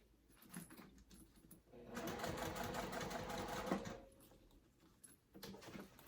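Sewing machine top stitching, a faint rapid whirring run of about two seconds between quiet clicks and handling noises, close by with no talk.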